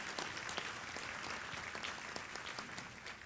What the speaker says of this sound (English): Let's give all of these past year inductees a round of applause